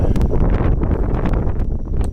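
Wind buffets the microphone in a steady low rumble on an evening street in Sakura-shinmachi, Tokyo, gusting throughout with faint rustling on top.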